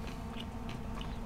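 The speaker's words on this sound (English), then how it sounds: "This is a lot of chewing." Chewing and biting sounds from the game Devil May Cry 3, a steady run of wet, crunchy mastication noises across a continuous game background.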